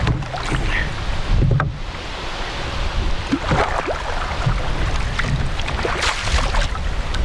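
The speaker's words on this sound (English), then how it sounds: "It is windy." Wind gusting over an open lake while out in a canoe, a steady broadband rush with water lapping against the hull, continuous and fairly loud throughout with no talking.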